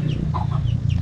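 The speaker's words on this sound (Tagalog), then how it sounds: "may mga manok" Chickens clucking close by at a rural farmyard in Casiguran, a few short throaty clucks over a steady low background rumble.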